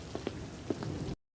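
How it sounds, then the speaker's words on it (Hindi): Rain falls steadily in a Hindi cartoon scene, a dense patter of drops on surfaces with a few louder splashes, alone and with no talk, stopping abruptly at the end. "तभी एक दिन नीरज बारिश में भीगता हुआ दौड़ते दौड़ते घर पहुंचता है।"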